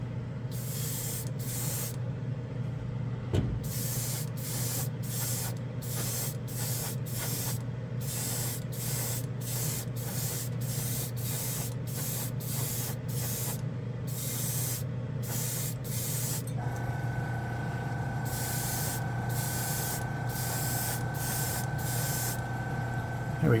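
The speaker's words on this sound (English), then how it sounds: "I don't use this too often on camera, but I do like this airbrush. And here we go with some metal pink." A Patriot Extreme airbrush sprays metallic pink paint onto a card in quick repeated bursts, a near, steady hiss cut into short pulses throughout, with a constant low hum underneath.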